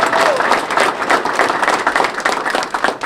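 A crowd gives a round of applause, loud, close clapping that rises and dips in bursts, with voices mixed in under it.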